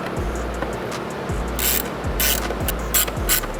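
A T20 Torx bit removes the mass airflow sensor screws on a BMW B58 intake, with repeated close ratcheting clicks in quick, even strokes over faint background hiss.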